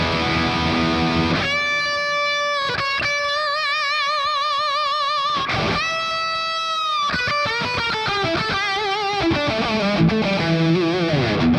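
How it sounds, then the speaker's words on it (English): Distorted electric guitar played through a Quad Cortex plays sustained chords and a few sliding notes, with a wash of reverb ringing out behind each phrase. "Let's try it with a bit of reverb. Here is the Quad Cortex."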